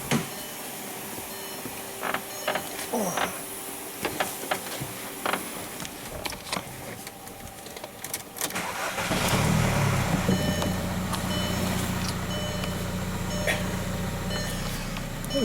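Air conditioning switched on in a Volkswagen TDI with manual controls, an AC clutch coil fault suspected: after quieter idle, a steady low blower and compressor hum rises around the nine-second mark and holds, fairly loud and close, with no talk.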